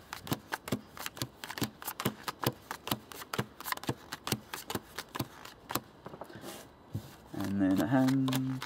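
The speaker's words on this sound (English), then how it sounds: "So deal the cards out." Playing cards are dealt out for a three-player game, a quick run of crisp snapping flicks one after another near and clear, then a voice speaks at the end.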